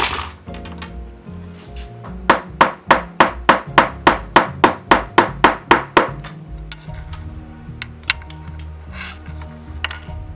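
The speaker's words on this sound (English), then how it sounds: "you can drive it down with a hammer" A hammer drives a nail into a 3D-printed marking gauge in a quick, even series of about fourteen sharp taps, close by, followed by scattered softer knocks and clatter.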